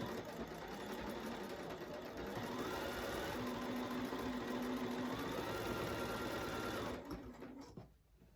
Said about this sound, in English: then you're going to sew a 1/4 inch away